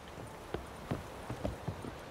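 Roach the horse in The Witcher 3 trots with steady clip-clop hoofbeats, about six distinct knocks at an even, moderate pace, close by over a low ambient bed with no talking.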